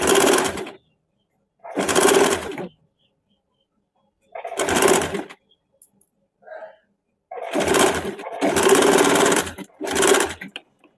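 Sewing machine stitching the front of a double katori blouse in short bursts, about six runs of a second or so with quiet gaps between.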